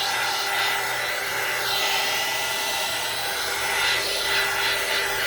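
A hair dryer blows steadily to dry acrylic paint on a gelli plate, a continuous close, loud airy whir with slight surges in intensity and no talking.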